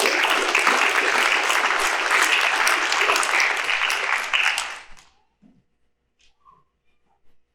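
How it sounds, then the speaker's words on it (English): Audience applause at a high school award night fills a large hall for nearly five seconds, loud and steady, then cuts off abruptly into near silence with a few faint scattered sounds. "Let's give them another big round of applause"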